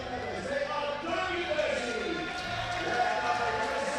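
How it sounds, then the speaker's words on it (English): A crowd applauds Durham's women's volleyball team, gold medalists in the BUCS Big Wednesday 2024 championship final against Essex. Steady, dense applause and crowd noise fill the hall throughout, with a commentator's voice running over it. "You can see the applause from the crowd."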